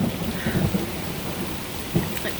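Steady rain pours down on a Texas farm while a low rumble of thunder rolls underneath, with a couple of brief cracks, a constant hiss and no talking.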